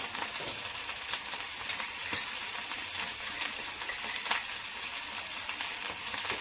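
Homemade black masala and red chili powder sautéing in a hot pan produce a steady, close sizzle that continues without a break and without talk.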